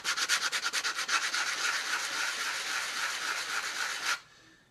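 A sanding block rubs the outer edges of a clad coin ring, first in quick rhythmic strokes, then in a continuous close scratchy rasp that stops abruptly near the end.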